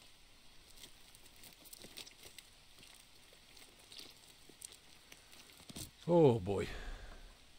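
Steady rain patters throughout in the jungle survival game Green Hell, soft and constant, with a louder squelching burst near the end and someone talking briefly.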